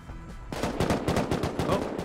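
Auto turrets firing in the modded Rust video game, a rapid loud burst of repeated gunshots in a steady rhythm, starting abruptly after a quiet moment, no talk.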